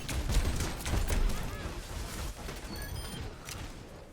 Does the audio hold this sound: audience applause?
no